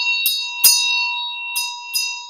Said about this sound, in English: Let me give you a little bell.